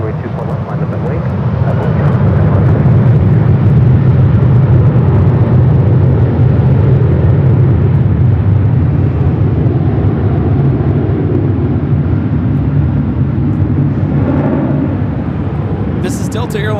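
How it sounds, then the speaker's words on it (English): A Delta Airlines Boeing 737-800 takes off from LAX, a loud, steady jet roar that holds for most of the clip and eases slightly near the end, with voices faintly audible underneath. "This is Delta Airlines 1865 taking off to Puerto Vallarta on the 737-800."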